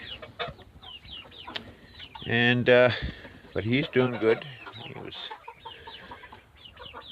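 Chickens cluck and squawk in a calf pen, a few loud bursts close by, mixed with someone talking over the quieter stretches.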